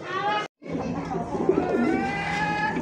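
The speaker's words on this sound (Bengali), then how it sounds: "দেখছেন কবুতর ভাই আফসান, যে চোখ আর শেপ দেখেন" King pigeons coo in a loft, a soft, rolling, throaty burbling that carries on steadily. Someone talks over the birds the whole time.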